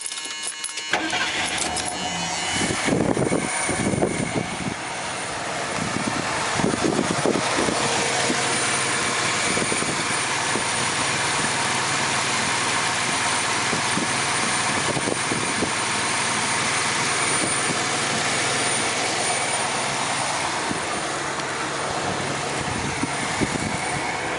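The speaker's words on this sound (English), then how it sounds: "So I'll try to start up the engine, and it ought to just start with no trouble at all." A carbureted 1978 Mercury Grand Marquis engine cranks and catches, then settles into a steady idle that runs on evenly, with a few clanks early on.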